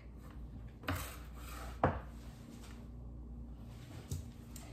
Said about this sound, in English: I will go ahead and start chopping up the garlic